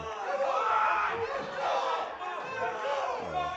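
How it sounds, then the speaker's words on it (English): A crowd at a powerlifting meet cheers and yells loudly throughout, a dense roar of voices swelling and dipping without a break. "I wish you guys could hear this crowd right now. They're going crazy for Kyle"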